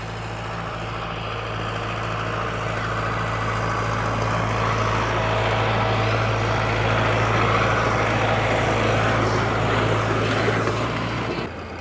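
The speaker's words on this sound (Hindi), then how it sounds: "एक चक्कर दिखाते हैं कितने टाइम के अंदर ट्रैक्टर कंप्लीट करता है।" A Mahindra Novo 605 DI tractor with CRDI engine, model year 2023, pulls a disc harrow around a field, its steady loud diesel drone running continuously with a low constant hum and no talking.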